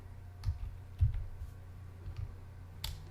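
Computer keys are struck in a few soft, scattered clicks at low level against a quiet background hum.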